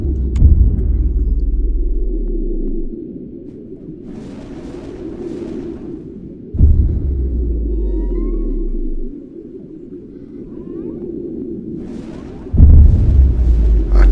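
Underwater torpedo explosions in the submarine video game Seawolf VR: two deep, loud booming blasts several seconds apart, each followed by a long low rumble, over a steady engine-like drone with faint sonar-like chirps.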